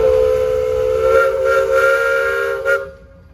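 A steam engine's whistle blows at a threshing show parade in Mason, Michigan: one loud, sustained shriek that holds for nearly three seconds and then cuts off, leaving a quiet tail.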